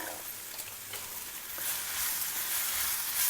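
Capsicum and onions being stirred through masala in a hot pan, a soft continuous sizzle and scraping that grows slightly louder and denser toward the end, with no voices.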